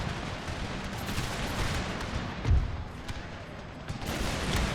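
Massed musket volleys crackle across an Empire Total War battlefield as lines of soldiers trade fire with guards, a steady distant rattle with a few sharper reports, grenades mixed in.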